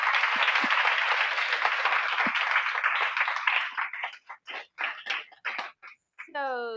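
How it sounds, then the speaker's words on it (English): An audience applauds the speakers at a Rebalancing Power event hosted by Okta. Steady, full applause breaks into scattered individual claps, and a voice comes in at the very end. "Give you a round of applause."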